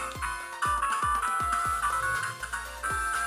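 A tinny electronic chiptune melody plays from a toy's small speaker, with bouncy blips and a rhythmic bass pulse in a retro video game style.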